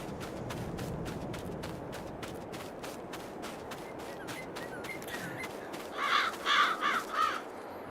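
Several crows caw in a short burst of four or five harsh calls near the end, over steady rhythmic footsteps or shuffling and a low background rumble outdoors.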